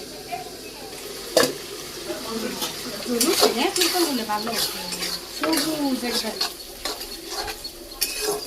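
Vegetables sizzle in a pan in a village kitchen while a utensil stirs and scrapes them, with metallic clinks, a sharp knock and a voice talking over the cooking.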